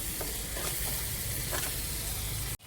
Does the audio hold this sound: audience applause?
no